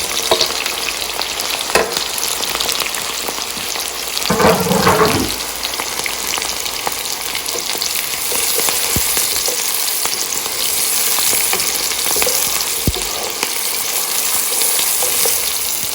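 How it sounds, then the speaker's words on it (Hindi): Onion and green chillies frying in a cooked spice masala for white chicken karahi make a steady, even sizzle throughout, with a brief louder burst of crackle and stirring near the start, with no talk. "अब मैं इसमें प्याज और हरी मिर्चें दोनों डाल दूँगी।"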